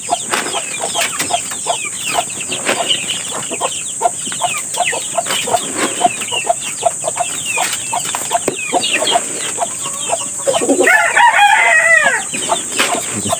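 Hens cluck busily and continuously, with a rooster crowing loudly near the end over the steady farmyard chatter.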